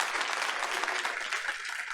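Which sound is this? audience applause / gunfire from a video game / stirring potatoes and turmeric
audience applause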